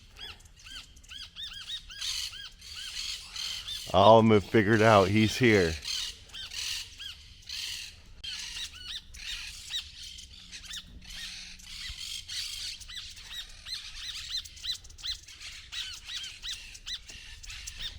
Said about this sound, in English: here come the parakeets now